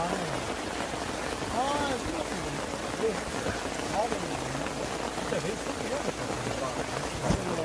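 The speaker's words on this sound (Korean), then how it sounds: "비가 되게 많이 옵니다." Heavy rain pattering steadily down on a campsite, a dense continuous wash of drops, with voices talking over it.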